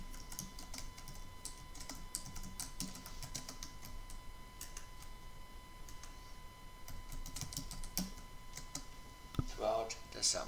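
Computer keyboard typing as a caption is entered on a PowerPoint slide, heard as a steady run of faint, quick clicks under a low room hiss, ending in a slightly louder burst of keystrokes.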